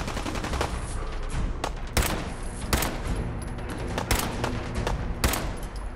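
Gunfire in Fallout 4, heavily modded: a steady crackle of rapid shots runs throughout, punctuated by several louder, sharper bursts at irregular intervals, all close and without talk.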